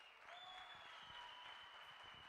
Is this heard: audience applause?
yes